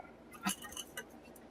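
Plastic toy train track pieces drop into a box with a quick cluster of light clinks and clatters, faint and close.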